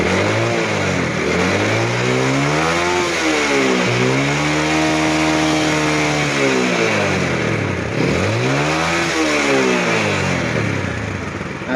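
A Yamaha Jupiter Z motorcycle engine, fitted with a Tiger regulator, revs up and down in repeated swells from idle, loud and close throughout.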